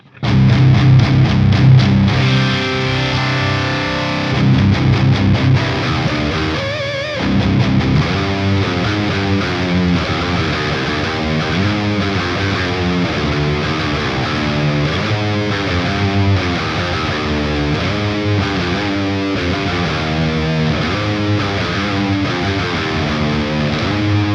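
Electric guitar through a high-gain amp model in the Archetype: Rabea X plugin, heavily distorted chugging riffs and sustained chords played loud and continuous without any talking.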